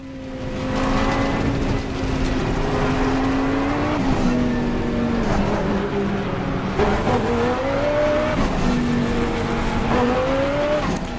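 A Ginetta race car in the Assetto Corsa Competizione racing game drones steadily, its engine note rising and falling through gear changes, with brief tire squeal and no talk over the loud, continuous sound.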